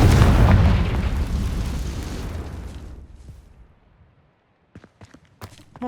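A Confringo blasting spell explodes in the video game Hogwarts Legacy: a loud, deep boom that rumbles and slowly fades to near silence over about four seconds, followed by a few faint scattered clicks and a sharper sound at the end.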